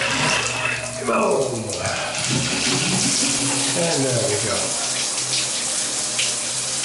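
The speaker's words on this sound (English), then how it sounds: "I'm going to switch hands just for a second so I can crank the hot water." Hot water runs steadily from a bathroom faucet with good pressure, a continuous close hiss and splash throughout while a person talks briefly over it.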